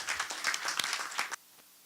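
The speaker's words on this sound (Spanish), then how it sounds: "Les pido por favor un fuerte aplauso" Conference attendees at a psychology and humanities event at the University of Guadalajara give a short burst of clapping that stops abruptly, leaving quiet room tone.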